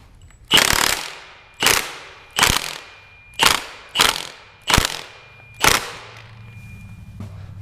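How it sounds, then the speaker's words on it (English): A 1/2-inch impact wrench works on an engine during a BRZ/FR-S/86 engine swap, firing seven loud, close bursts of hammering rattle, each about half a second long and evenly spaced, with brief quiet gaps between them. "we're going to do it with the 1/2-inch impact"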